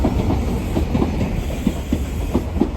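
A Northern train from Sellafield arriving at Carlisle station, its wheels giving rhythmic clickety-clack over rail joints with a loud, close rumble and no voices.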